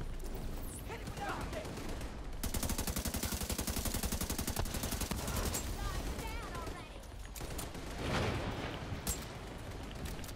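Rapid automatic gunfire rattles in a video game shooter during a frantic firefight, a long sustained burst in the middle with scattered shots and action noise around it, loud and up front.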